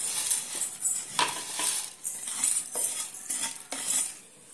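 Roasted ragi vermicelli being moved from a kadai to a plate, with a series of sharp metal spoon scrapes and clinks against the pan, fairly close and with no talking.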